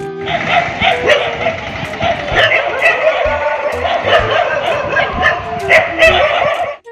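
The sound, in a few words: dogs barking at another dog wearing a shirt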